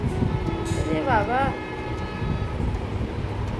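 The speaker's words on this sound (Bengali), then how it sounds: "ল্যাপটপে বন্দে ভারত যাচ্ছে" A Vande Bharat train plays from a laptop speaker, a steady rumble with a brief horn-like wavering tone in the middle, heard indoors under a voice.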